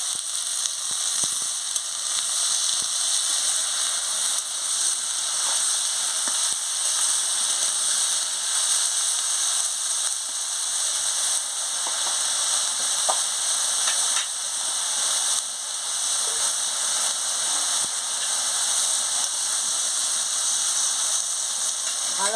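Eggplant fried with neem leaves, turmeric and salt gives off a steady, loud sizzling hiss that runs unbroken for a long stretch, with only faint occasional clicks and no talking.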